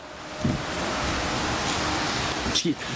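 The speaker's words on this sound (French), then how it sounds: "Il ne fait pas simplement froid et humide, il fait venteux." Gusty wind blows outdoors on a cold, damp day at an outdoor car show, a steady broadband roar buffeting the microphone throughout, with a couple of brief faint vocal bumps.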